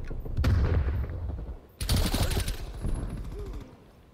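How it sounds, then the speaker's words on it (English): Gunfire from a shotgun in Black Ops Cold War, two loud bursts of shots close together, each blast followed by a rattling tail and fading noise. "I just shotgunned that man, bro"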